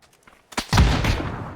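A hut blown up in a video game: a short burst, then a loud, close explosion that rolls on for about a second before slowly fading.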